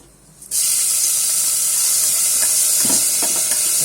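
A sudden loud sizzle bursts out as millet grain hits a spoonful of hot oil with a pinch of asafoetida, then settles into steady crackling hiss with faint stirring scrapes.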